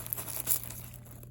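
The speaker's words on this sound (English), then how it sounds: "I'm just going to crush them up a little bit" Dry tea leaves crushed by hand over a cup, a brief soft crinkling and crunching close by with no talk.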